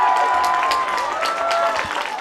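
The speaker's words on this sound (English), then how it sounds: "So big cheer from the crowds" Crowd in the stands at a high school varsity football game, a steady wash of cheering and clapping heard from a distance, continuous and fairly loud throughout with no single voice standing out.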